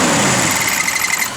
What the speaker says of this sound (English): A little squeak there.